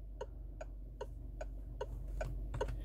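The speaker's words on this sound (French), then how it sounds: "le bruit de mes clignotants d'origine" A Citroën DS4's original classic turn signal sound ticks steadily and evenly, about seven crisp clicks in a row over a low engine hum.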